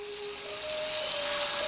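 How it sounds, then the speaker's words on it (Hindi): A reversible electric drill runs against a car speedometer to wind the numbers backwards. It gives a steady, close mechanical whine whose pitch climbs partway through and then holds. "2 तरफ चलने वाली ड्रिल, इसे उल्टी तरफ चलाओ तो नंबर्स कम होते जाएंगे"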